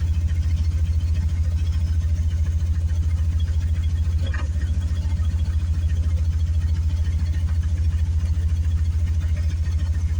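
A 1979 Corvette C3 engine runs at a steady low, rumbling idle from close by, and a single brief pop stands out partway through.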